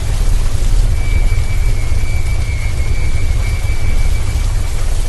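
Steady heavy rain pours down in a dense, continuous hiss, with low rumbling beneath that may be distant thunder; no voices are heard.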